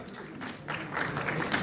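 An audience at a speech event breaks into applause, a dense, steady patter of many hands clapping that swells after a brief lull and holds at moderate loudness.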